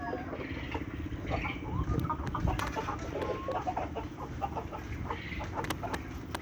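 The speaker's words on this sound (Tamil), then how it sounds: "இதுக்குள்ள ஃபுல்லாக கருங்கோழி நிற்கணும்." A flock of black Kadaknath chickens clucks and murmurs continuously nearby, with occasional sharper squawks over a low background hum.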